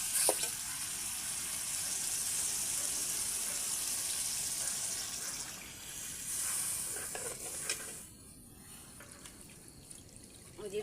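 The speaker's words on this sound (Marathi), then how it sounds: "आता आपण पाणी टाकून घेऊ." Water poured into a pan of sizzling, oil-separated masala for a murrel fish curry, giving a loud, steady crackling hiss close by that eases and quiets toward the end, with no talk.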